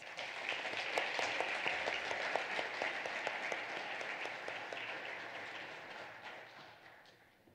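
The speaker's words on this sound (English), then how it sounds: "Please give them a round of applause." Sustained applause from an assembly audience honoring award recipients, dense clapping that stays steady and loud before gradually thinning toward the end.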